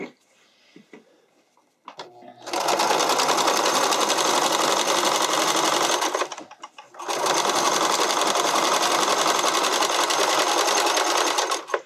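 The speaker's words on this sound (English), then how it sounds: "So I'm going to stretch everything all together and sew." A sewing machine stitches wide elastic onto stretchy spandex fabric in two long, loud, fast-running bursts separated by a short pause, after a few quiet handling sounds at the start.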